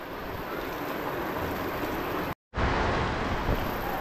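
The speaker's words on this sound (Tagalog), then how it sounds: "Lakas talaga ng ulan." Heavy rain pours steadily in a broad, dense wash with wind noise, loud and close throughout, with a brief full dropout near the middle before the downpour resumes.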